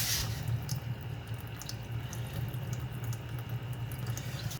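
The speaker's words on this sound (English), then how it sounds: "as soon as we get this open, you could probably hear already how much faster that's draining out" Coolant draining out of a Honda Acty radiator into a pan, a steady trickling, dripping flow of liquid heard close up and alone, continuous for several seconds over a low background hum.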